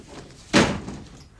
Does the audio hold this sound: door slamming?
yes